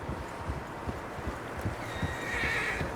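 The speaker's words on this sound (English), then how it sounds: "Horses, quite a few of them." Horses in Red Dead Redemption 2 snort and neigh over the uneven clip-clop of hooves, several animals moving close by, with a thin high whinny rising near the end.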